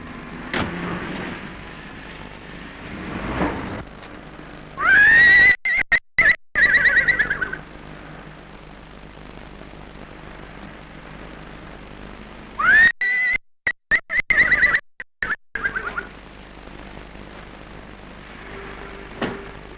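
A voice imitates a colt's whinnies for a film, in two loud, shrill, wavering neighing bursts separated by a quiet stretch, each trailing off in choppy fragments.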